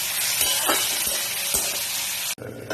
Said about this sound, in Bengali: এবার এর মধ্যে ক্যাপসিকাম দিলাম আর টমেটো দিলাম আর রসুন দিলাম। দিয়ে আরো একটু নেড়ে চেড়ে নিচ্ছি।